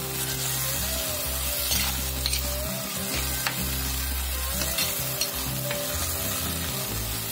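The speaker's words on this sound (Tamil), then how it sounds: "அந்த தீயை கொஞ்சம் கூட்டி வச்சு நல்லா வதக்கி விடலாம்." Vegetables, mainly brinjal, are sautéed in a pan over a high flame with a constant loud sizzle, while periodic stirring scrapes and a steady low hum from the stove run underneath.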